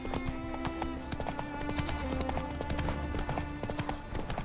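Hooves of Roach, the horse in The Witcher 3, clip-clop in a steady quick rhythm at close range, with a brief neigh mixed in over a constant game backdrop.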